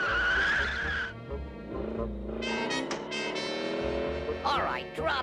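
A cartoon car skids to a stop with loud squealing tires over revving engine noise, followed by brief sliding squeaks, while cartoon voices talk in the background.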